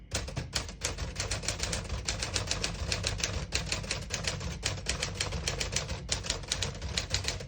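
Rapid, even typing on a 1956 Smith-Corona Sterling portable typewriter, crisp key strikes clacking close up in a continuous run with slight rhythmic variation and no voices.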